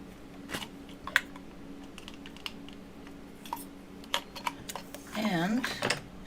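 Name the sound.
blade cutting slices from a hexagonal cane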